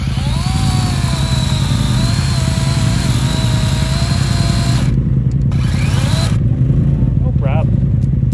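A DeWalt chainsaw with a dull chain cuts into a hardwood stump, its steady whining drone running loud and close without pause, while other outdoor noise briefly drops away partway through.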